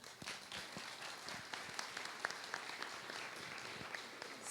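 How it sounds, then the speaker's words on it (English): An audience at a college runway fashion show applauds in a steady, even patter of many hands. The clapping is moderately distant and continues for several seconds, with faint voices mixed in. "So please join me in another round of applause to thank all of our graduate speakers for their thoughtful answers."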